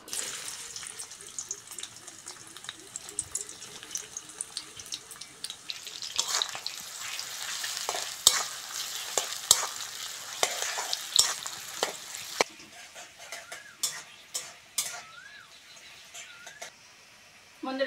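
Chopped onions fry in mustard oil in a wok, a steady sizzle with frequent clinks and scrapes of stirring, and a stretch of running tap water near the end.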